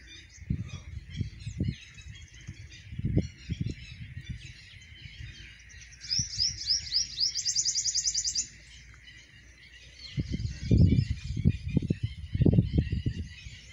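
Black francolin calling outdoors on a farm, a rapid series of bright rhythmic whistled notes standing out midway over a steady chorus of other birds, with low thumping rural noises before and after.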